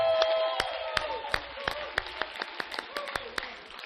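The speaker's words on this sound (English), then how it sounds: "So everybody give yourself a big round of applause." A group audience applauds at an event, with scattered, separate sharp claps rather than a dense roar and voices mixed in among them.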